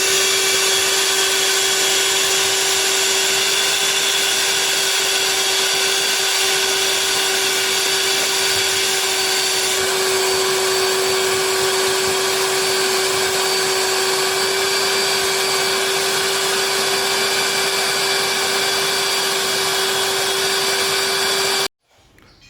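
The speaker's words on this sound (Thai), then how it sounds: "จะดูดฝุ่นทำความสะอาดภายในรถให้นะคะ" A vacuum cleaner drones loudly and steadily while cleaning the interior of an Isuzu D-Max, a constant whine with a strong hum that holds for about twenty seconds before cutting off abruptly.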